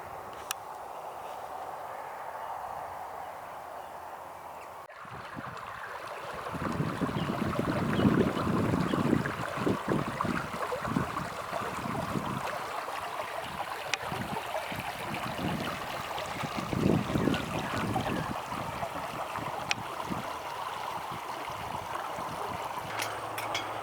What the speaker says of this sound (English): Little stream with a weir.